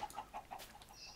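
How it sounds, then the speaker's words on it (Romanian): Chickens cluck in the video game Minecraft, a quick series of faint, evenly spaced clucks. "Uite, găini!"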